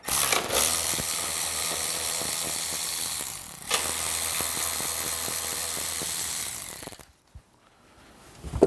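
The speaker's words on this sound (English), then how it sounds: "All right, so we're gonna remove our battery tray. We've got 2 more 13mm bolts at the back." Ratchet wrench turning out 13mm bolts from a car battery tray, a rapid continuous clicking run that briefly pauses, then stops, followed by near silence and a final metallic clunk.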